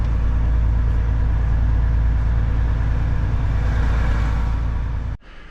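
A heavy truck engine runs steadily and close as the vehicle rolls up to a loading ramp, with a constant low rumble throughout and a brief drop near the end as it settles.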